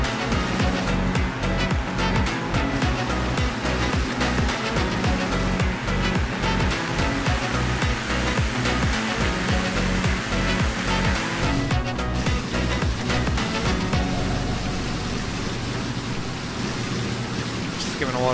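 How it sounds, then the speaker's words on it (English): A bush plane's tire drags across a river at about 80 knots in Microsoft Flight Simulator 2024: a loud, continuous rushing wash of water spray and rumble that fills the whole stretch and eases slightly near the end. "gotta love the nature sound of birds chirping getting interrupted by a bush plane dragging its tire across the river at about 80 knots"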